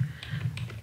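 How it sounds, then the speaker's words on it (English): Quick burst of computer keyboard typing, a few close, light key clicks in under a second while entering text in Maya or Premiere, with no talk. "I'm going to grab a text tool and just type in"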